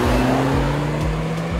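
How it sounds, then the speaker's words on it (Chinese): A tuned, roughly six-year-old Volkswagen Golf R hot hatch with a DSG gearbox and about 310 horsepower, fitted with Continental SC6 tires, accelerates hard: a loud, steady engine drone with rhythmic low pulses as it pulls. "开起来还是非常的凶悍，加速非常凌厉的一台小钢炮"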